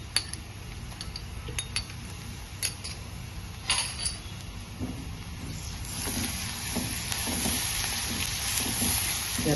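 Ginger, garlic and chili paste sizzles steadily in a hot pan for corn rice, with occasional clinks and scrapes of a spoon stirring; no one speaks.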